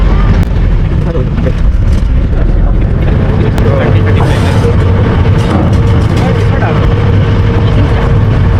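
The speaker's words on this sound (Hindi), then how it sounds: "फिलहाल गाड़ी का ही आवाज़ आ रहा होगा इसमें।" Vehicle noise captured on a GoPro with no proper mic during a jungle safari ride, a steady loud rumble with wind-like roar filling the whole clip.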